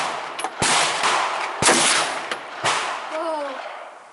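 Rifle shots at an outdoor shooting range burst a can of whipped cream: several sharp, loud cracks in irregular succession, with a brief voice at the end.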